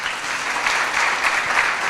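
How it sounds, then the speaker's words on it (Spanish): Loud, even applause from the audience at a business and accounting congress, many hands clapping steadily throughout. "yo les pido un aplauso muy fuerte para esta"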